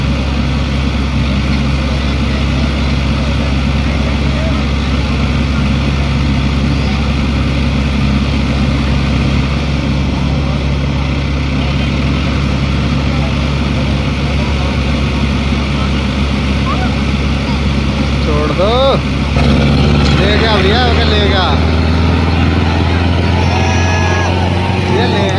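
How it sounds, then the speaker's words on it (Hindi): A Mahindra, Swaraj, Sonalika or Farmtrac 6055 tractor engine runs steadily and loudly through a rural tractor tug-of-war contest, a low constant drone with a brief change near the end, while onlookers talk over it. "लो जी योगेश का ट्रैक्टर तैयार है"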